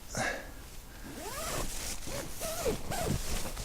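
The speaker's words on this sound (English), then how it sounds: "the zippers do not really stick, so no problem there" Zipper of a Quechua Quick Hiker 2 tent pulled in several short, rasping strokes, close and fairly loud, with no talk over it.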